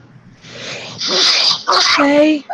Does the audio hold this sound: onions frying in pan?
no